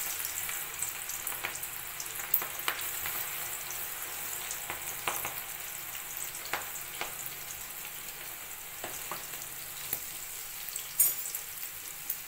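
Okra fries in hot oil on a high flame, giving a continuous, fairly soft hiss with occasional small pops and clicks throughout, and no voices.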